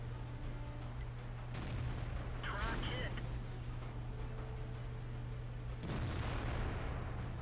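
Tank cannon shots in the World of Tanks video game, a couple of sharp booming blasts at about two and six seconds over a steady engine drone, with someone talking over the battle.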